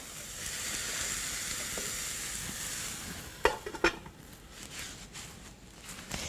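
Tomato frying in a pan gives a continuous sizzling hiss for about three seconds, then it thins out into a few sharp clicks and softer crackles.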